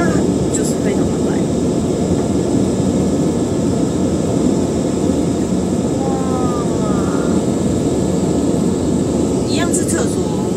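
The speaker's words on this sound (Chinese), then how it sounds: "就是那个飞机上的厕所" A constant loud roar of a jet airliner's engines on a long-haul flight fills an onboard lavatory, steady throughout, with a few brief faint squeaks and rustles.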